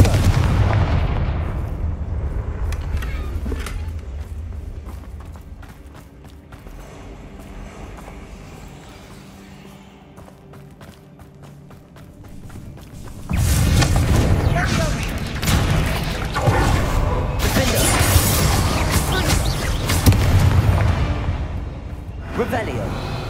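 A Confringo blasting spell goes off in Hogwarts Legacy, a loud booming burst that swells into sustained rumbling blasts over the second half, following a quieter stretch of game ambience.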